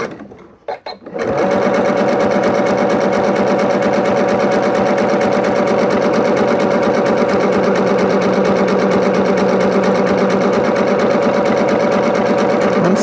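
A sewing machine zigzag-stitches fabric on a 7mm stitch width, starting up after a brief pause and then running in a fast, steady mechanical chatter that stays loud and even throughout.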